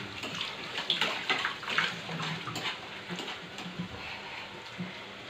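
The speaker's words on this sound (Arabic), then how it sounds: "وانا عندي نغسل هاد المعنين" Water runs into a kitchen sink while dishes are washed, a steady splashing stream with soft clatter and shifting bursts as items pass under the tap, close by and with no one talking.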